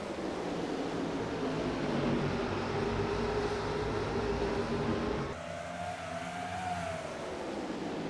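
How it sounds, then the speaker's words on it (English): Dirt cars roaring together as the green flag drops at Galesburg Speedway on the WRLA Hoosier Summer Tour, a dense, steady engine drone from a distance with a brief shift in pitch near the end. "Green flag, we're racing in Galesburg."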